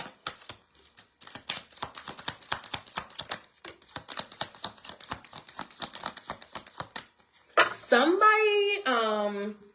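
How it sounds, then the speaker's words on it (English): Tarot cards being shuffled by hand, a fast run of crisp riffling clicks and flutters for several seconds, followed by a brief burst of voice at the end. "Last shuffle."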